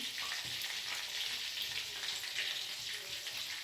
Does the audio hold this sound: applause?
no